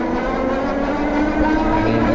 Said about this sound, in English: this is the 0 to 20 throttle test on the Rev1